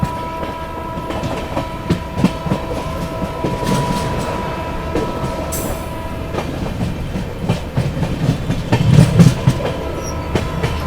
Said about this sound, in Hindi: आप लोगों को स्किप दिखाते हैं बनारस रेलवे स्टेशन का